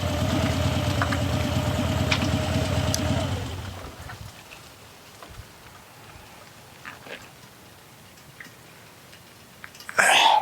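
A parked car's engine idles with a low steady rumble for about three seconds, then cuts off, leaving quiet outdoor ambience with faint scattered sounds and a brief burst at the end.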